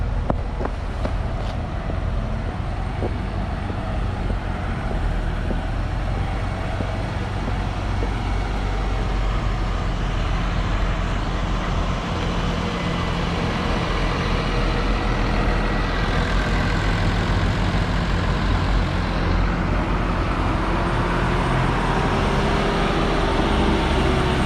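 A bus engine runs with a steady, heavy low rumble, and wind buffeting the microphone blends in for the whole stretch, with no voices over it.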